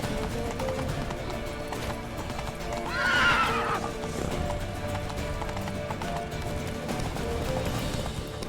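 Hooves clip-clop rapidly in a steady galloping rhythm, and a horse whinnies loudly partway through, all over a dense rumbling backdrop, in the video game The Witcher 3.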